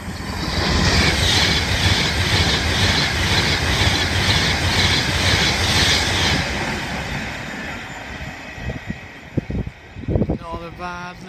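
An Avanti train passes through a station platform with a loud, close, sustained roar and rumble and rhythmic wheel clatter, then fades to scattered clicks and knocks as it draws away.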